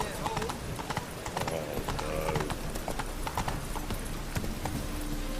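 Roach the horse from The Witcher 3 gallops with a rapid, continuous clip-clop of hooves close by under game ambience, with a brief whinny-like sound partway through.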